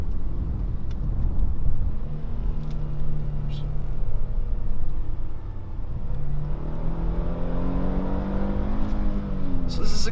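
A 2020 Hyundai Palisade Limited AWD engine pulls on a mountain road, its drone rising and shifting pitch through paddle-shifted downshifts. It runs steadily throughout, heard from inside the cabin under road noise.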